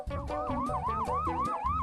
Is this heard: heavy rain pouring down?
no